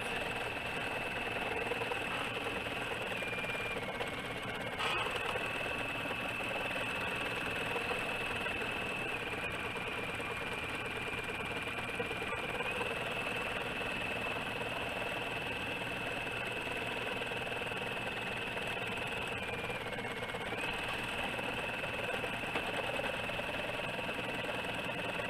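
Embroidery sewing machine stitching a seeds design on a hanging kitchen towel, a steady loud mechanical hum and rapid needle chatter running continuously, with slight pitch shifts now and then.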